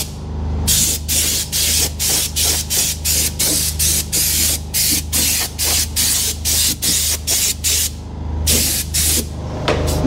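An air compressor sprayer blows oil onto farm machinery in rapid, evenly spaced hissing bursts, about fifteen in a row, loud and close, over the steady low hum of a running generator.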